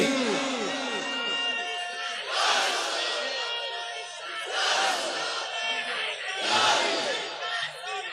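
A large crowd answers a Nara-e-Takbir call at a naat gathering with three loud, swelling collective shouts over a sustained vocal drone and chatter.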